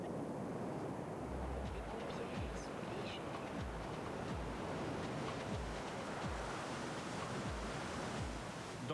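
Big ocean waves crash along a Hawaiian shore in a continuous broadband roar, with wind noise and soft low thumps, loud and without clear talk.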